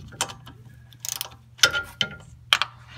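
A 3/8-inch drive ratchet with a short socket loosens 13 mm differential cover bolts on a Ford 8.8-inch solid rear axle, giving several short bursts of close metallic clicking separated by brief pauses.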